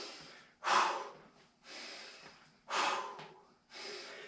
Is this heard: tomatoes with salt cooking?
no